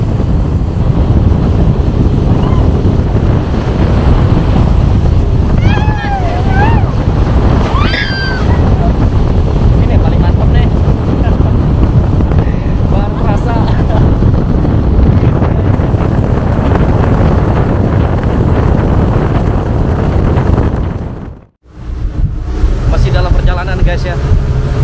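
A speedboat pushes upstream through river rapids on the Mahakam River in a constant loud roar of engine, rushing water and wind buffeting the microphone for about twenty seconds, with voices faintly under the noise before a brief drop near the end.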